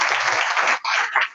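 An audience at a sports reform conference claps together in a short, dense burst that cuts off after about a second.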